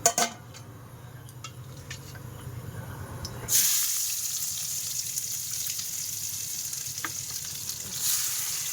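Meat and potatoes hitting hot oil in a wok, a quiet stirring clatter before an abrupt loud sizzle bursts up and continues steadily with occasional utensil clinks.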